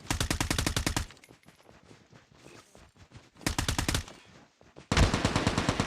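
Rapid automatic gunfire in the Call of Duty Mobile battle royale game comes in three loud bursts of evenly spaced shots, separated by quieter stretches of scattered game sounds and clicks.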